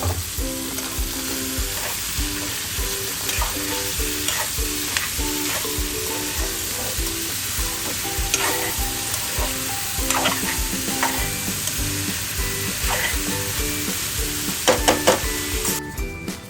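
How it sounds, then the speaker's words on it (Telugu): Bottle gourd and ridge gourd pieces fry in hot oil for chutney, giving a steady loud sizzle with repeated stirring scrapes and a faint clink near the end, with no talking. "సొరకాయ ముక్కలు, బీరకాయ ముక్కలు ఆయిల్లో వేసుకోవాలి."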